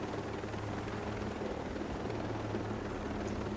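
A helicopter in Ghost Recon Breakpoint holds a steady, droning rotor and engine hum, constant and fairly close, with no talking.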